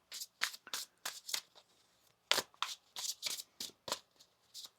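A deck of tarot cards being shuffled by hand, a series of crisp riffling bursts in quick succession with short gaps, close and fairly quiet, no talking.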